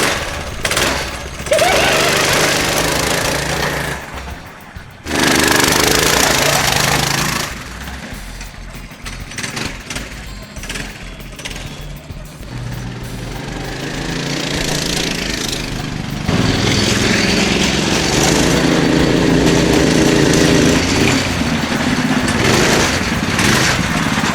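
A small go-kart engine on a modified KT196 kart revs and idles loudly nearby, buzzing and sputtering, its pitch rising and falling with throttle changes over a long stretch.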